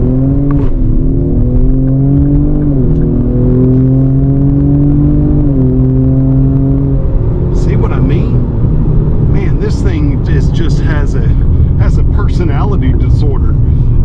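A 2025 Ford Explorer ST accelerates hard, its engine rising in pitch through gear changes as a loud, close cabin drone, with a person talking over the later part.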